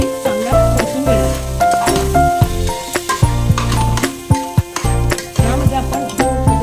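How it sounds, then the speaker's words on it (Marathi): Soaked rice with salt and asafoetida being roasted in a hot pan for masale bhat, with loud, continuous sizzling and frying and repeated stirring scrapes, close up over tonal background music. "आता त्यामध्ये मी माझा हा भात राईस टाकणार आहे आणि तो मी चांगला परतून घेणार"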